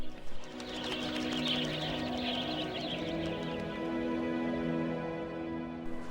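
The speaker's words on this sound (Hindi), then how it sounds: "लेकिन आज इस घाटी में पनाह पा रहे हैं प्रवासी पक्षी" Migratory birds call in the Chambal river valley sanctuary, soft cooing and chirps spread through a steady outdoor background.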